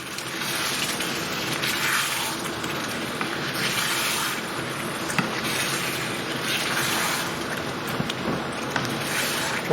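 Base gravy for a lamb and potato balti pours into a hot pan, a continuous close gushing and sputtering wash of liquid with a few small clicks and no speech.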